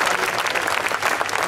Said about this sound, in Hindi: एक बार हम संदीप के लिए जोरदार ताली बजाए